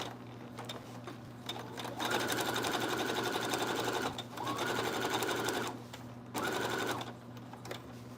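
A sewing machine stitches zippered pouches in three sustained bursts of rapid, even mechanical whirring, separated by short pauses, over a low steady hum.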